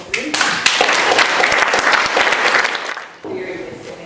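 Wedding guests give a round of applause during the reception speeches: a loud burst of many hands clapping for about three seconds, then fading into quieter room sound.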